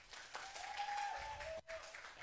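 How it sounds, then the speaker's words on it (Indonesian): Applause from an evening podcast audience of international relations students, faint and steady clapping with a brief dip near the end and no speech. "Tepuk tangannya dulu dong."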